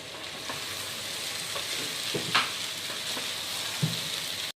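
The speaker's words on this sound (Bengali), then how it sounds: "আর এখন আলুগুলো একবার সমস্ত মশলার সাথে কষিয়ে নেব।" Boiled potato slices and chickpeas fry with spices in a pan, giving a steady, even sizzle up close, with a couple of brief utensil scrapes and no speech.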